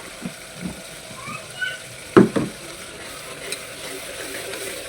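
Spices frying and being stirred in a pan for haleem, with a steady background sizzle and a few scraping stirs, one louder clatter near the middle.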